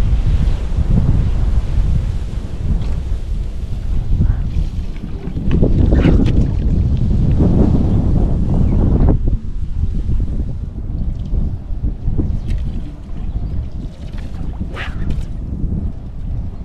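Strong wind buffets the microphone in heavy, roaring gusts beside the River Mawddach, with water sloshing faintly beneath; no one speaks.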